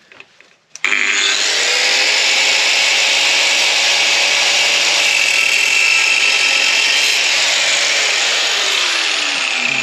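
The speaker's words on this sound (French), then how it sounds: "On va prendre la meuleuse, et on va couper." An angle grinder with a worn cutting disc bites into a marked cut line, starting after a brief clatter and then holding a loud, steady, high whining screech that runs on without a break and with no talking.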